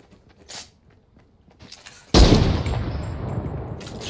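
A single loud, sharp gunshot from a shooter video game cracks out after a quiet stretch of faint clicks, followed by a long, rumbling, decaying tail.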